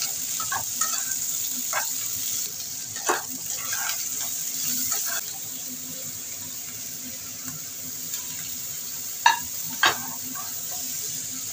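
Onion and green chilies fry in a pan for chili chicken, giving a steady close sizzle with scattered stirring scrapes and a couple of sharp clinks near the end.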